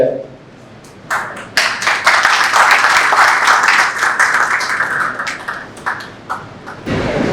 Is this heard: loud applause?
yes